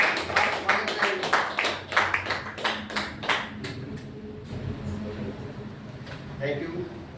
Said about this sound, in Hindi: जिनके जोरदार तालियों से स्वागत करेंगे